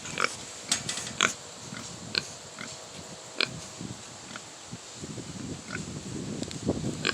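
A farm pig grunts and oinks in short, faint snorts outdoors, with a light wind rushing across the open ground.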